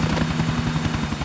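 Helicopter in the video game GTA IV: a loud, steady rotor chop with a deep pulsing thrum and a high whine, close and continuous, cutting off abruptly at the very end.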